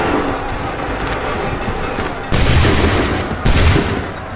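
Musket volleys go off on command in the Assassin's Creed 3 game, two loud, close bursts of massed gunfire cracking over a noisy battlefield background.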